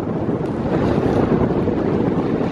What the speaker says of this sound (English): It's really windy. I'm talking directly into the microphone